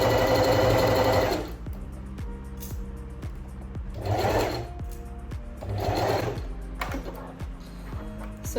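Sewing machine stitching around the pocket bag of a gathered-waist summer dress, a loud steady run at first, then slower bursts of regular needle ticks with short pauses between, close and without talk.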